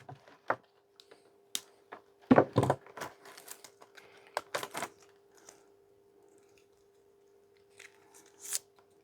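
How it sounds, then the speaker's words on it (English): Wire cutters snip the cords off an electrical appliance headed for e-waste, giving sparse, sharp crunching clips and rustles, one louder cluster in the middle, against a quiet background. "Let's plug that back in and chop the wires off. And we'll cut the wires off the rope."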